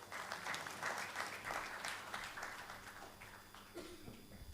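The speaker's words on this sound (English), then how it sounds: "Give a big round of applause." Sustained audience applause fills a smart healthcare summit hall in India, dense and steady, thinning toward the end as a voice briefly comes in.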